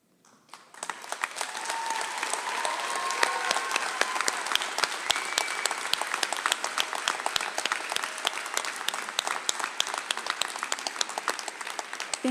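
A graduation ceremony audience breaks into sustained applause, starting abruptly and holding as a dense, even wall of clapping for about eleven seconds, with scattered cheers mixed in.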